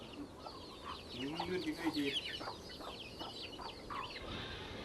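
Several free-range chickens cluck and squawk in quick irregular bursts, close by, with some voices and shuffling mixed in, in rural Cambodia.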